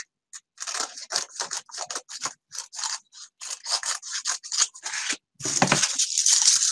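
Scissors trim excess base material for a sweet-design craft piece, a close, crisp series of rhythmic snips and cuts, each short and separated by brief pauses, with no speech.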